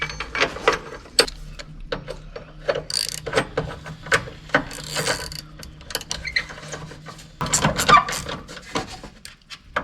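A socket wrench with a 13 mm socket ratchets while a battery hold-down bracket is refitted in a Dacia Dokker, giving quick clicking bursts with clanks and handling noises close by.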